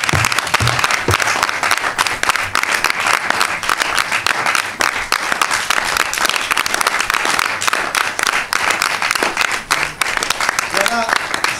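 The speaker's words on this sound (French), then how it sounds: "Applaudissez encore" A theatre audience at a stage performance breaks into sustained, dense applause, many hands clapping steadily and loudly for several seconds with a few voices murmuring underneath.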